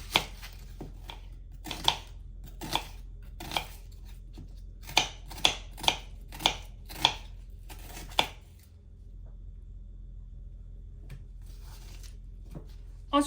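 Knife chopping onion on a cutting board, a dozen crisp single taps at an uneven pace, close and clear, then stopping into near silence.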